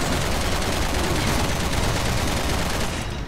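Rapid, continuous gunfire during a Resident Evil 6 final boss fight, a dense and loud barrage of shots with no pauses, fading slightly at the very end.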